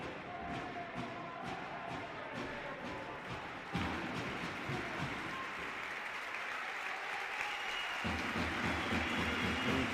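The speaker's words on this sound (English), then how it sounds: "Hear the appreciation from the crowd as the rotations is made" Crowd applause fills an arena at a EuroLeague Women quarter-final basketball game between Perfumerias Avenida and Spar Girona, a steady wash of clapping that runs the whole time and swells louder twice.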